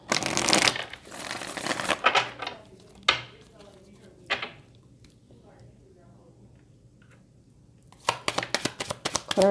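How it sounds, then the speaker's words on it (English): Tarot cards are shuffled in short crisp riffling bursts with pauses between them, close and clear, while a person talks between the shuffles. "Let me shuffle one more time"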